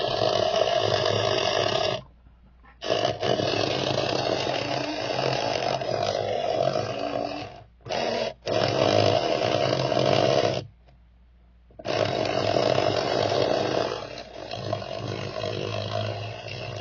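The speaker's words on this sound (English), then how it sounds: "Let's put her on a dyno and see what she does." Antique 1967 Tyco Cheetah slot car in candy red, its small electric motor running on a dyno, a loud steady buzzing whine that cuts out briefly three times and then resumes, with no talk over it.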